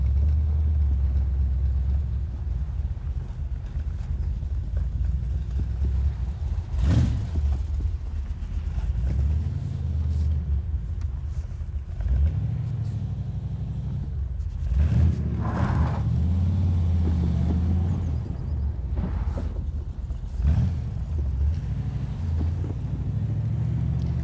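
A 427Hardtops DAX Cobra replica drives steadily with a deep, rumbling engine drone and heavy wind buffeting. Several sharper surges and gear-change swells come through, and no voices are heard.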